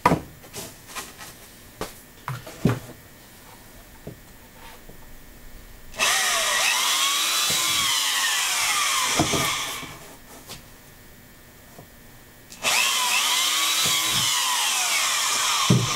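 A power drill bores out holes in two long sustained bursts, loud and close, separated by a pause filled with lighter tapping and handling knocks.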